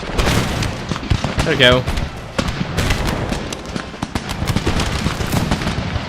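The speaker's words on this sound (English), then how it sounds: "Go on then, deliver a good volley." Musket volleys fired by infantry in the Empire: Total War game, a crackle of many sharp shots spread across the battle with distant booms, while someone talks over it.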